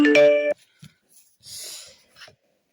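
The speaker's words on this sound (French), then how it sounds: "Oui, McDo, oui, la notification de McDo." A McDonald's app notification chime on a phone rings out as a short, bright tonal jingle lasting about half a second, followed by faint, scattered breathy noises in near quiet.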